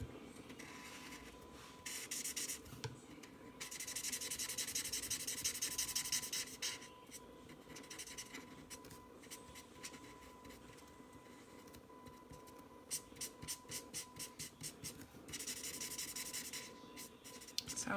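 Spectrum Noir ColourBlend pencils scratch and rub across paper in bursts of quick strokes, close and soft, with short pauses between passes and no voices.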